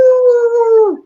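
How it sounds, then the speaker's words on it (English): A puppy lets out a single clear howl lasting about a second, close and loud, holding a steady pitch before sliding down and trailing off. "That's a good-looking puppy."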